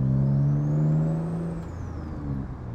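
Turbocharged V6 Honda Accord engine with a custom exhaust and open turbo pipe lacking a blow-off valve, revving near and loud as a steady rising drone, a whistling whine climbing then falling away.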